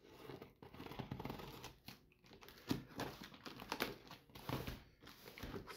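Cardboard box sealed with simple tape opened by hand, dense crinkling, tearing and scraping of tape and packing material, close and continuous with brief louder rips.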